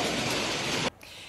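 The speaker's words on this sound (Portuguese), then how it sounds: "E voltou a chover no estado de São Paulo." Rain falling during a storm in the state of São Paulo, a dense steady hiss that cuts off abruptly near the end, leaving near silence.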